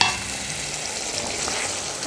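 A pan of Tamil onion curry (vengaya kulambu) with drumstick simmers with a steady, hissing sizzle and soft bubbling, close up and constant throughout.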